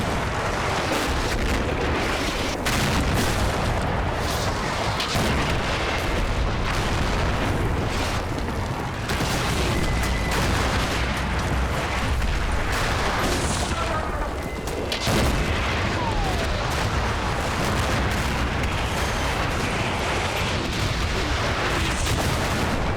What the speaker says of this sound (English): Oh, it's just an artillery duel at the minute.